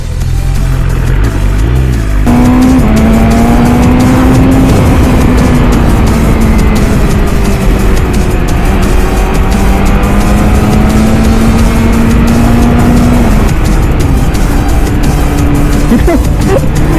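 A car driven fast along an empty city road during the Songkran holiday on a hot sunny day, its loud engine drone rising and falling in pitch through gear changes, steady and close throughout with road roar underneath.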